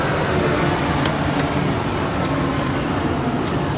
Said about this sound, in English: Engine sounds great though.